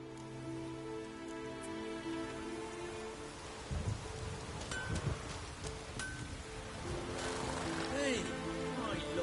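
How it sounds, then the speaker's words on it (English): Rain falls steadily outdoors, a soft constant patter with scattered drips, faint against a background of steady tonal hum. "Hey, I love the rain."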